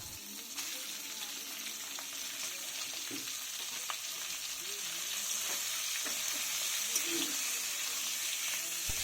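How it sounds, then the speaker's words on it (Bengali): Chicken pieces fry in oil with whole garlic and crushed ginger, giving a close, steady sizzle that swells slightly over time, with occasional light stirring taps. "রসুন ও আদাটাকে লাল করে নেড়ে নিয়ে তাতে চিকেনগুলো দিয়ে দিলাম"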